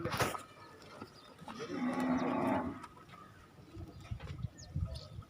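A buffalo being loaded into a pickup truck lets out one long, deep low in the middle, fairly close, among faint background bustle and scattered handling noises.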